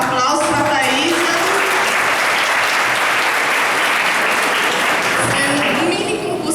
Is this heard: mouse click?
no